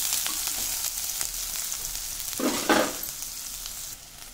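Onions lightly frying in a pan with asafoetida, a bright continuous sizzle heard up close, swelling briefly midway as the pieces are stirred, with no voices.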